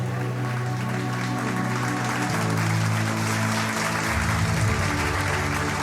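Applause for an award winner at a banking technology conference, steady even clapping from a large audience over a droning background of sustained music or hum.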